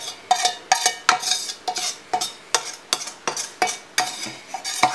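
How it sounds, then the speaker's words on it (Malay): A spoon scrapes and stirs through rice in a pot, prepared for Perlis-style nasi ganja, in a steady rhythm of about a dozen close, distinct strokes with nothing else heard. "Kemudian dalam nasi ni kita kacaukan"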